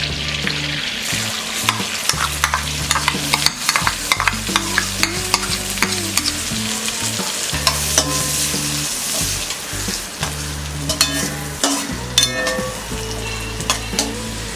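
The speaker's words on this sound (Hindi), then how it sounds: "ऑयल और बटर गर्म होने के बाद हम डालेंगे ये जीरा, जीरा क्रैकल होने के बाद हम डालेंगे ये अनियन" Cumin and onion fry in hot oil and butter on a tawa, a loud close sizzle with steady crackling and spatula stirring and scraping against the metal throughout.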